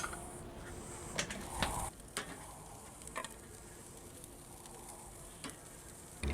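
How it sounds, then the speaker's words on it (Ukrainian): A steady, soft sizzle of ribeye and striploin steaks on a charcoal grill hisses throughout, with occasional clicks and light clatter over it and no talking. "поки смажаться наші стейки"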